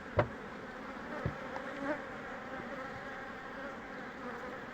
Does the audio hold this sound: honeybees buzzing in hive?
yes